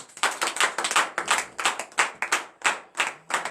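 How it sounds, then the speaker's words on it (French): A church congregation claps in acclamation during a morning prayer service, sharp rhythmic handclaps close by and loud, with no talk. "Donnez l'acclamation à l'Éternel."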